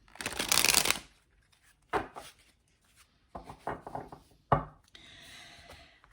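Tarot cards are shuffled up close: a long loud riffle at the start, then scattered softer slides, taps and shuffles in uneven bursts.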